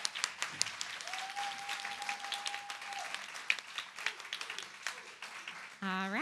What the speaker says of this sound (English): clap for Wildelise